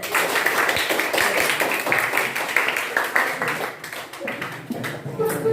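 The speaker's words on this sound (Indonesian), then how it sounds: "Tepuk tangan." A school class clapping hands together in a classroom, a rapid, fairly loud stream of many claps lasting several seconds with a little chatter mixed in.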